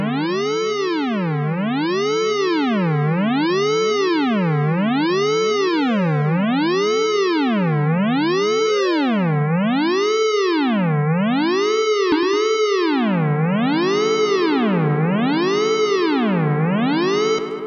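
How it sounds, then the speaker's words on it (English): A synthesized dub siren plays in Ableton as continuous rising and falling tone sweeps. Echo repeats overlap each sweep, and the layered cycles run steadily and loudly for the whole stretch, with no voices. "So we're starting to get that dub siren kind of sound"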